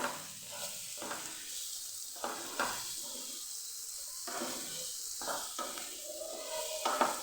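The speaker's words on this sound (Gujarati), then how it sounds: "તો કેરીને આપણે એકદમ સરસ સાતડી લેવાની છે" Raw mango sautés with whole spices in a pan, giving a soft continuous sizzle punctuated by repeated spoon scrapes and clinks against the metal, close up and without voices.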